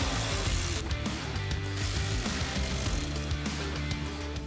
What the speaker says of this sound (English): You will also need to grab a 10mm socket to remove 2 bolts underneath our hood latch holding on the sensor.